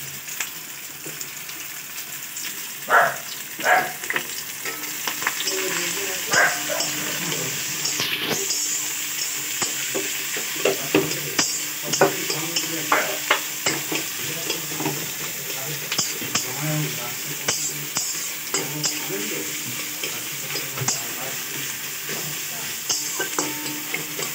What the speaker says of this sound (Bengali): কাঁচা লঙ্কা কুচিগুলো দিয়ে দিই।